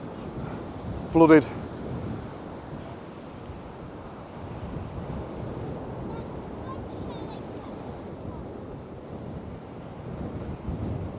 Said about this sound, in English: as the waves are smashing against the sea wall, they're curving back on themselves